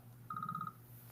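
A phone rings once with a short burst of rapid electronic trill pulses from an unknown caller, quiet and fairly close, in a live show setting with no talk over it.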